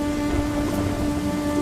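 Steady rain falls outdoors at night in a forest clearing, a continuous close hiss of drops on leaves and ground with a faint tonal hum running beneath it.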